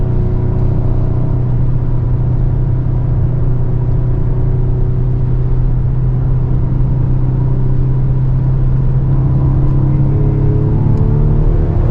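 A 2025 Ford Explorer ST engine pulls hard on the Road America track, heard from inside the cabin as a loud, continuous droning roar with rising revs, followed by a shift and a climb again near the end.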